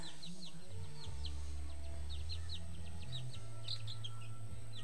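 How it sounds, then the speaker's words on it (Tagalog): Young chicks in a backyard vegetable garden with bitter gourd and string beans peep in quick, high, repeated chirps over a steady low background hum. "Ito na yung mga alaga kong piso."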